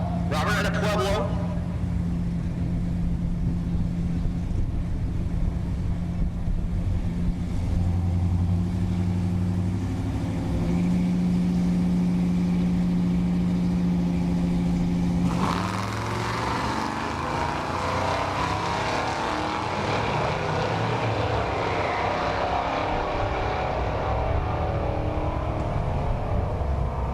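A 1964 Chevelle and another drag race car launch at a dragstrip in Great Bend, Kansas, engines droning at rising pitch before a loud roaring surge, with an announcer talking over the noise.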